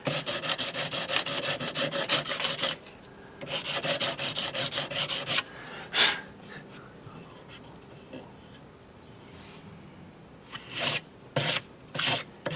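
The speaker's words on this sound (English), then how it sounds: "We'll start with some 100 grit to get the big parts." Coarse 100 grit sandpaper rubs across the wooden body of a handmade bass guitar in long steady strokes, with a brief pause, then shorter scattered scrapes and a quieter stretch near the end.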